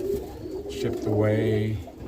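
A roller pigeon coos close by in a low, throaty rolling call lasting a couple of seconds, with a faint voice in the background.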